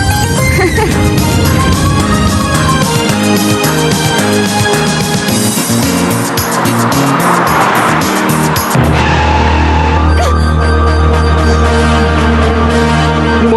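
A car pulls away along a road, its engine loud and steady with a brief tire squeal, then settling into a low sustained hum as it drives on, with music-like layers throughout.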